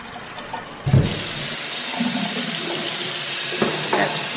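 Water runs from a kitchen sink faucet at low pressure in an empty apartment, a short steady splashing stream with a bump of handling noise near the start.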